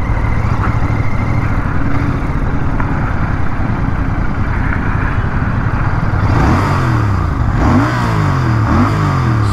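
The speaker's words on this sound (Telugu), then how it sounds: "నేను జస్ట్ ఇక్కడ ఆపి మీకు ఎగ్జాస్ట్ నోట్ అనేది ఇచ్చేస్తాను" Royal Enfield Bear 650 motorcycle exhaust note, a loud close rumble that settles into idle, then several sharp throttle blips rising and falling in quick succession toward the end.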